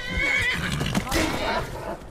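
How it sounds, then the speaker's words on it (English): A horse neighs in the Skyrim VR video game, a bandit's mount, with a loud, strained whinny that rises and falls over about two seconds among dense game noise and voices. "Well, it was a bandit's horse."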